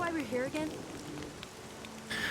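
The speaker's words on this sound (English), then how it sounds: "Oh, and it's raining." Rain falls in the video game Xenoblade Chronicles 2: Torna, a steady soft patter under a voice talking at the start and again at the end.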